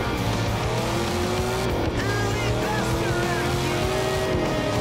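A Camaro races along a road in Forza Horizon 2 with a loud, continuous engine roar whose pitch shifts as it changes speed, joined by bursts of tire squeal.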